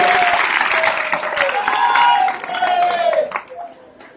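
An audience at a Jain poetry gathering (kavi sammelan) in Tikamgarh breaks into loud, sustained applause, a dense wash of clapping that fades away toward the end.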